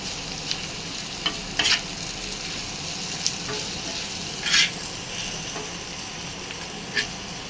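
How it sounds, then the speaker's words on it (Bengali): Taki fish seasoned with salt and turmeric fries in a pan with a continuous close sizzle, broken by a few sharper bursts of spattering oil. "আমরা সুন্দর করে ভাজা নেব।"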